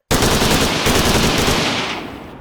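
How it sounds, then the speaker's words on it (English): Video game machine gun sound effect, a dense rapid burst of loud gunfire crackle lasting about two seconds before tailing off, with no talk over it. "I've added some like free sound effects to the guns"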